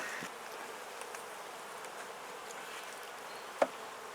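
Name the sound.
honey bees in a top bar beehive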